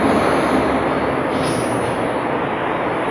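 A Berlin S-Bahn train rumbles loudly and steadily with dense broadband rail noise and a faint high whine, heard close by without speech.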